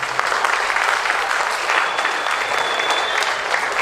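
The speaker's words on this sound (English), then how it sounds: "yes, please give them a round of applause" A middle school band concert audience bursts into dense, sustained applause, loud and even throughout, with a faint murmur of the crowd underneath.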